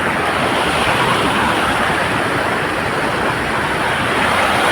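The Vatrak river rushes in full monsoon spate, a loud, steady, close roar of flowing water with no speech.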